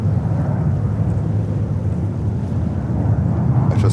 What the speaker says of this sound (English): I just heard the CF6 engines